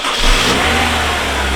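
A Honda S2000 AP1 engine revs up in a garage just after starting, a loud, steady running note that swells briefly and settles into a constant drone with no talk over it.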